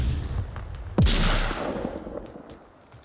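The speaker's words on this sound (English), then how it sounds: "a flash and a nade" A flashbang and grenade going off in the Onward VR video game, a single sharp loud blast followed by a decaying rumble that fades over two seconds.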